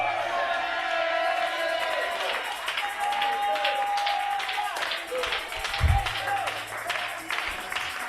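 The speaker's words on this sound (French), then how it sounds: "Plus de cris de joie." A church congregation at a jubilee service cheers and claps joyfully, a dense mix of applause, whoops and shouting voices filling the room, with a sharp thump near the end.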